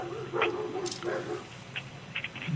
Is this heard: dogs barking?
yes